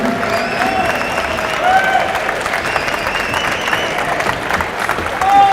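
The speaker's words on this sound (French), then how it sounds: "On les applaudit." Audience applause fills a Quebec auto show floor, steady and moderately loud throughout the five seconds, with crowd murmur and some tonal background sound mixed in.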